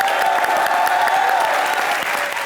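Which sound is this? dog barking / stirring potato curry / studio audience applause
studio audience applause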